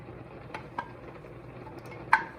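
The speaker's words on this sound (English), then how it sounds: "you're going to stir this for a couple of minutes until it thickens up and you scrape off the brown bits that are on the bottom of the pan" A spoon stirs beef stroganoff sauce of beef broth and heavy cream in a pan, with a soft bubbling simmer and a few sharp scrapes and clinks against the pan's bottom.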